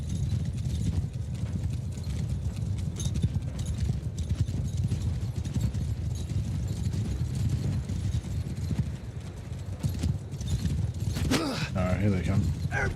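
Cavalry horses in the War Sails strategy game move in a steady mass of clip-clop hoofbeats with creaking gear, a dense continuous rumble that stays loud throughout, with a brief sharper burst near the end.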